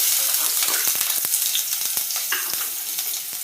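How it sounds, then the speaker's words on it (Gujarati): Chopped onion and curry leaves frying in hot oil, with a steady dense sizzle throughout and scattered sharp crackles and pops, close and fairly loud, with no talk. "મીઠો લીમડો એડ કરશું અને નાની નાની આપણે ડુંગળી કટિંગ કરી હતી નાખી દઈશું"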